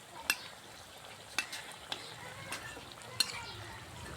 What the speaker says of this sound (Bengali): এই যে দেখুন, সুন্দর করে ভাজা হচ্ছে